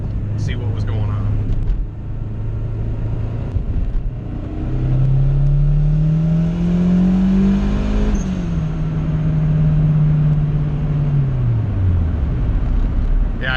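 Turbocharged GSR-swapped Honda Civic EG engine revving through a pull, a steady low drone that climbs in pitch over several seconds, peaks, then drops off as the revs fall, loud and close with talking underneath.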